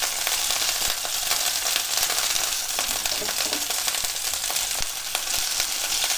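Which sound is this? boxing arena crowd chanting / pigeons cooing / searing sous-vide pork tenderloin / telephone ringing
searing sous-vide pork tenderloin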